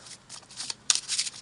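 Quick riffling bursts of Yu-Gi-Oh cards being shuffled, a short flurry of crisp flapping close by, with no voices.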